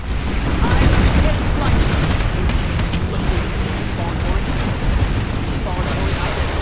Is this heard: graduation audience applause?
no